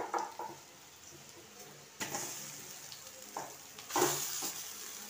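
Meat fries with onions in a pan over a gas flame, a soft continuous sizzle punctuated by a few louder bursts as the food is stirred or added, close and fairly quiet.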